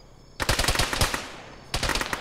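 Rapid bursts of automatic gunfire crack out in a military tactical shooter game, a dense volley of shots followed by a short pause and then another burst, loud and close with no talking.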